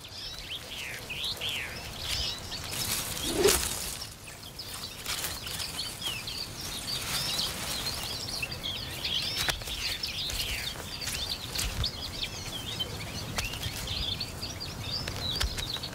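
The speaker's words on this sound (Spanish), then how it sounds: "Como por ejemplo, el pinzón vulgar." Common chaffinch calling on an island archipelago, repeated bright chirps and short song phrases moderately close, continuing steadily over outdoor ambience with a brief rustle early on.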